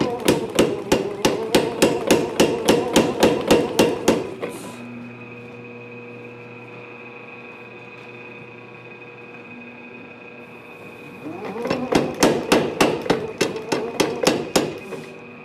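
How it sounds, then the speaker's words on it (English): A tire hammer pounds hot metal during blacksmith forging in fast, regular bursts of loud ringing blows. A steady motor hum fills the pause between two runs of strikes. "I'm gonna do that on the tire hammer."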